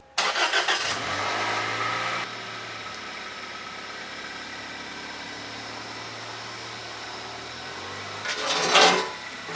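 A car engine cranks briefly, catches and settles into a steady idle, then revs up near the end; the sound is close and clear with no talking.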